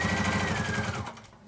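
A sewing machine stitching a fabric hot pad, running in a fast, steady mechanical whir with rhythmic needle pulses, close by, then slowing and stopping near the end.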